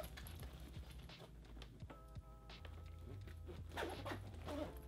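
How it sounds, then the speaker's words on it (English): A zipper runs along a packed carry-on bag, giving a quiet, close rasping with small clicks and rustles over a faint background hum. "Zip it up."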